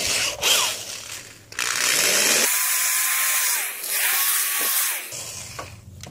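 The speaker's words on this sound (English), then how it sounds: "So that wire wheel's a little too big, so I'm gonna use my little smaller one I have." A small wire wheel on a power tool scrubs the drive shaft of a 1977 Evinrude 4 HP outboard, its whine steady and loud up close with brief stops and restarts as it grinds away crud.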